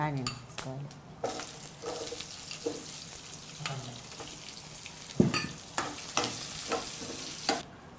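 Onions being lightly fried for a sprouts tomato curry sizzle gently while a spoon scrapes and clinks against the pan in irregular strokes, fairly close and moderately quiet.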